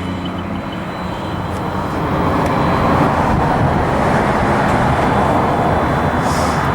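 Dense, steady roar of freeway traffic heard from beside a parked car, with businesses along the roadside; the broad rushing wash stays constant and grows slightly louder partway through, with no voices.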